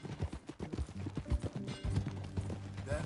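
Horse hooves clip-clopping in the Western video game Red Dead Redemption 2, a steady rhythm of close, distinct hoofbeats under soft tonal music, with faint creaks of tack mixed in.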